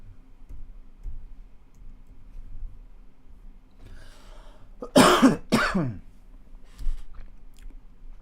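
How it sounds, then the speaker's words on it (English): A man coughs twice in quick succession, sharp and close, during a live stock market commentary, with quiet background clicks before and after. "I'm so sorry about the coughs, guys."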